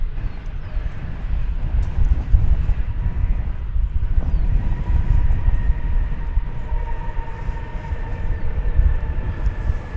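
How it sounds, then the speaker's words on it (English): Airbus A380 arriving at DFW Airport, heard as a steady, loud low-frequency roar that persists for the whole stretch, with faint sustained higher whine tones running over it and no talking. "From Montrose, Colorado, we see an Airbus A380 arriving."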